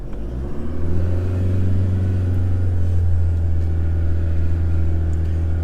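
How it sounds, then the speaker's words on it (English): A four-wheel-drive car approaching along an off-road track, its engine a steady deep rumble that swells and holds loud and close, with no voices. "I've got a car coming towards me."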